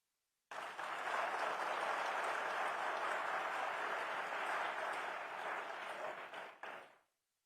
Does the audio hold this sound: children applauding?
yes